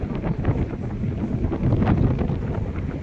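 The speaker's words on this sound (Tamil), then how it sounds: "காற்று செம்மையாக அடிக்குது உங்களுக்கே சவுண்டு கேட்கும் வீடியோவில்" Strong sea wind gusting under a bridge near the Italian port of Olbia, steady loud low rumble buffeting the microphone throughout, with no speech.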